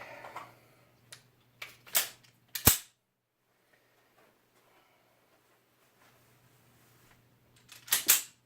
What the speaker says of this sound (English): then I'm going to do a tap, rack, or down and heel, rack